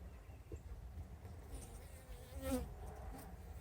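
A decent-sized swarm of honeybees clusters on hive frames, giving off a faint, even buzzing drone close by with no talk over it.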